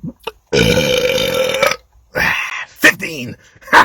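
Loud, drawn-out belches after drinking a bottle of Mountain Dew Baja Blast: one long burp followed by several shorter ones, close to the mic with pauses between.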